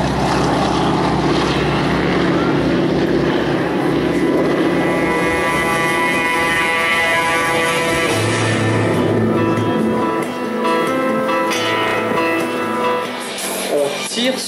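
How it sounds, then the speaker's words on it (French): A North American T-6 radial piston engine drones loud and steady during a low pass over the airfield at the Guiscriff air show, with harmonic tones shifting as the plane moves, then easing off near the end. "On le laissera à un moment donné pour qu'on ait le son uniquement du moteur."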